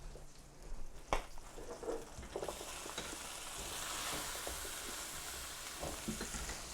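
Yellow pepper strips sizzle with onions in a frying pan, a steady close frying hiss that swells and holds after a brief clatter, with occasional pops and stirring noises.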